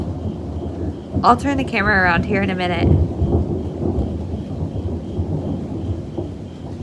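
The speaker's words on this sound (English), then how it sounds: "It is really like loud rolling thunder and really like creepy." Loud rolling thunder from a September storm rumbles low and continuous behind a person talking, with the deep roll carrying on steadily after the voice stops.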